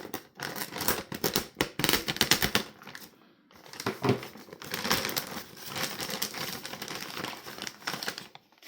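Crinkling plastic and rapid snipping cuts as an Australian one-man combat ration pack, Menu C, is cut open from the back, in two close bursts of crisp rustling separated by a brief pause.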